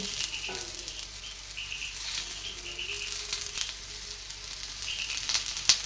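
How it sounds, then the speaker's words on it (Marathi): Coriander vadis made with crushed roasted peanuts shallow-fry in a pan over a medium flame after a little oil is drizzled over them, giving a soft, steady sizzle and faint crackle up close, with no talking. "असं थोडंसं वड्यावर तेल सोडायचं"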